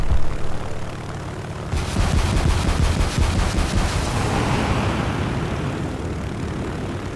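Loud, continuous rapid aircraft cannon fire in War Thunder rattles over a droning aircraft engine, the bursts blending into a dense roar that gradually eases.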